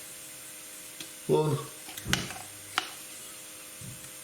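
Garlic and ginger paste hits a hot pan in a brief, quiet sizzle, with a few clinks and stirring sounds, and a voice speaks briefly.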